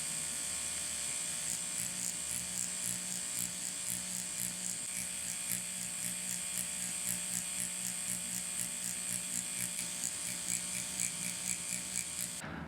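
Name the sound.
tattoo machine buzzing while drawing a line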